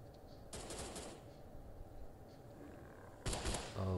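Automatic gunfire from soldiers in a video game comes in two loud, rapid bursts, one early and one near the end, with steady game ambience and no voices between them.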